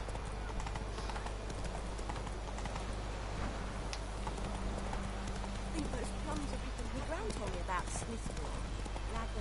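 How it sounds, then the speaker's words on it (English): Rhythmic hoofbeats of a horse galloping in The Witcher 3, steady and continuous under dense game sound and keyboard clatter, with someone talking over it. "Run, Roach. Vámonos. Me va si corre, ¿no? El caballo este"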